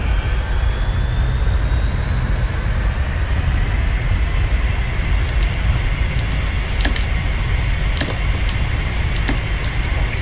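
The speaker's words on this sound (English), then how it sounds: "Let's start our takeoff roll." An aircraft engine roars through a takeoff roll: loud, steady broadband noise with a thin, rising whine above it, and light tapping clicks sounding in the second half.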